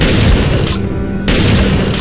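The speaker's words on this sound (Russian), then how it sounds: "Это что, боевая граната?" Live grenade explosion in Resident Evil 4 during a fight with Krauser, a loud, booming close blast with a brief dip partway through, then a renewed rumble.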